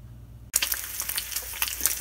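Bacon starts frying in a pan with a sudden onset of bright crackling sizzle that continues steadily with irregular pops, close and fairly loud.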